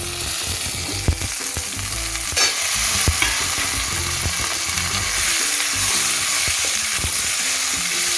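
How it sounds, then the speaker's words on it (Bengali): Eggplant, beans, radish and carrot frying on high flame in a pan, a continuous loud sizzle with repeated scraping stirs and spatula knocks, no voices. "এটাও হাই ফ্লেমে ভেজে নিচ্ছি"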